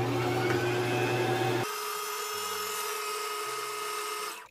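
A Brother sewing machine whirs steadily as it winds a bobbin, a close, even mechanical hum that drops to a lighter tone partway through and then runs on evenly until it stops near the end.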